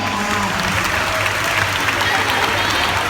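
A concert crowd applauds the band, a dense, loud, continuous clapping that sounds close and fills the whole stretch, with faint crowd voices mixed in.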